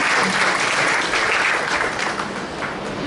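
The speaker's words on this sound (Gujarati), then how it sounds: "તો વૈભવ માટે આપણે તાળી પાડીએ." An audience at a community felicitation ceremony applauds Vaibhav, with dense, sustained clapping from many hands that holds evenly for a few seconds and then eases slightly.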